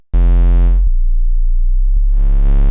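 A heavy, distorted 808 sub bass note booms loudly, fades into a low humming tail, then a second gritty bass hit swells back in.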